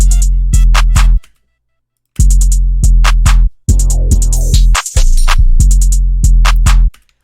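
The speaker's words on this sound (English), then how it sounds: "all together the drums sound like this." A produced drum beat plays in full, with punchy kicks, snappy hits and hi-hats in tight bursts, broken by abrupt gated silences and a short descending sweep, loud and up front.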